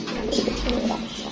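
Pigeons at a pigeon farm coo in low, steady murmurs, a close and continuous hum of soft calls with no voices over it.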